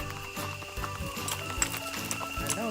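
Horse hooves clip-clopping on a trail ride in Quepos, Costa Rica, a steady rhythmic series of close hoof strikes over a background with sustained tonal sounds, fairly quiet and even.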